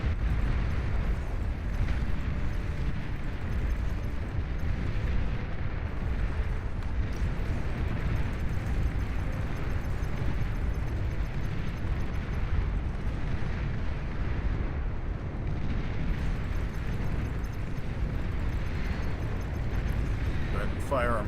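Missile barrages fired in a real-time strategy game produce a dense, continuous rumble of overlapping explosions that stays loud and steady throughout, with booming low end and no clear gaps between blasts.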